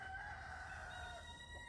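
A rooster's crow on a farm trails off in a long, tapering call, faint and a little distant against a low background rumble.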